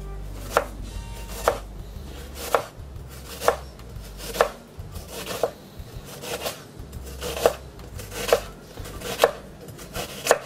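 An onion is chopped with a knife on a cutting board in about a dozen sharp, evenly spaced knocks, close and clear, with faint background hum and no talking.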